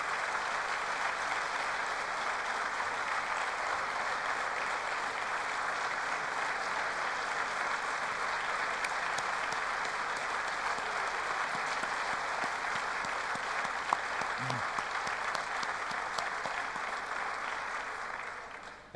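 Sustained applause from a large audience in the Teatro Eliseo theatre in Nuoro, steady and even throughout, with a brief thump near the end.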